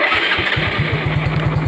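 A motorcycle engine cranks briefly, then catches and settles into a fast, throbbing idle, close and loud.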